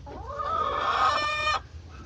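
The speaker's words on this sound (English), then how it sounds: "4 broody chickens fighting for 1 nesting box." A broody hen, one of four fighting over a single nesting box, gives one long, loud, strained clucking growl lasting about a second and a half before it cuts off sharply.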